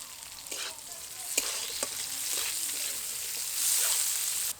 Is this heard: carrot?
yes